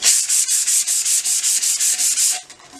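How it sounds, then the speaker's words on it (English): A tumbler cup being sanded by hand in quick, even back-and-forth strokes, a dozen hissy scrapes close up that stop near the end. "I am just going to sand the cup"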